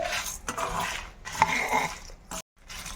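Garlic cloves are stirred in a pan with flax seeds for a spicy powder. A utensil clinks and scrapes against the metal pan in uneven strokes, close by, with no clear sizzle.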